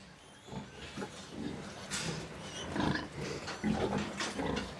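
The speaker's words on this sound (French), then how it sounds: "Son élevage compte environ 3000 porcs." Pigs on a farm raising about 3000 animals grunt and squeal in a steady, overlapping stream of short calls, moderately close, over a faint barn hum.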